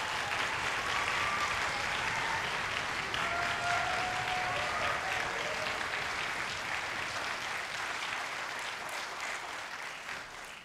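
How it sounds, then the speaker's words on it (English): An audience at a school band concert gives a steady round of applause, a broad even wash of many hands clapping that lasts about ten seconds and eases slightly toward the end. "Please give them a big round of applause"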